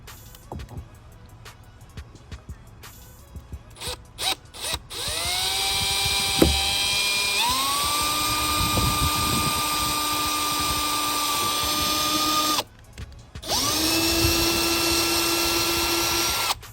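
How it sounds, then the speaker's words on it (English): A power drill drills out rivet holes in a carbon fiber ram air panel on a Sea-Doo RXT/GTX/RXP 300 jet ski, with short bursts and then long sustained whining runs at close range. "I leave the rivet in the hole as if it was in there, and then I just drill again."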